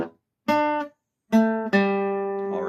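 A few clean single guitar notes on the third string form a simple blues riff, played close and alone, each picked note ringing briefly, with short gaps between them and the last note sustaining.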